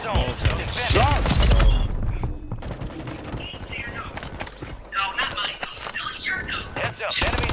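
Rapid gunshots and automatic fire in a shooter game crackle in dense bursts, loud early then thinning, layered under spoken in-game callouts and other game sounds.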